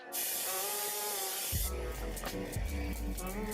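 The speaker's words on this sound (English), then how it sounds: "a setting spray that you're gonna use at the end of your makeup routine" A long, steady hiss of a setting spray for over a second, followed by quieter rustling and soft handling noises.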